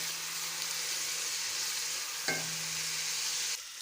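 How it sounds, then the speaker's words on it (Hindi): Garlic, ginger and green chillies fry in a pan with a steady, hissing sizzle, with a brief scrape of stirring partway through; close and continuous, with no voices. "लहसुन अदरक और हरी मिर्च अच्छी तरह फ्राई हो गए"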